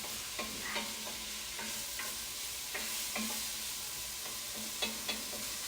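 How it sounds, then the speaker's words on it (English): Black bean soup ingredients sauté in a pot with a soft, steady sizzle, broken by occasional spoon scrapes and stirs; the sound is quiet and close, with no voices. "So while this is sauteing, you're gonna want to mix it frequently."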